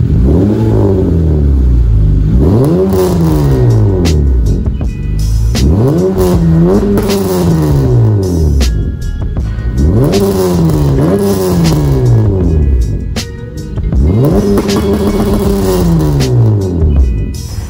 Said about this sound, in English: It does create some more rasp to the engine.